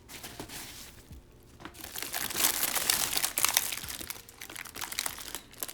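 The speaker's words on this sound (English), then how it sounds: "Open up the storage bag." A plastic storage bag is opened and rummaged close by, giving irregular crinkling and crunching. It starts quiet, then grows louder and busier through the middle before easing off.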